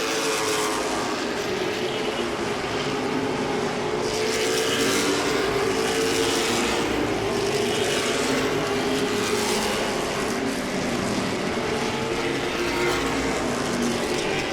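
Late model stock cars race at Langley Speedway, a steady, loud roar of several engines running together, swelling slightly as cars pass close by.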